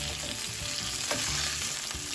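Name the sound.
marinated carp fish frying in oil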